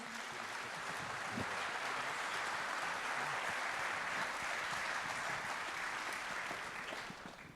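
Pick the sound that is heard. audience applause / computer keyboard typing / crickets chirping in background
audience applause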